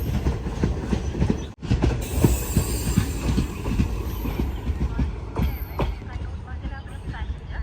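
Thiruvananthapuram Mangaluru Express rolling through Nileshwaram station, a steady loud rumble of rail cars with rhythmic wheel clatter and occasional squeal, close by, with a voice talking over it.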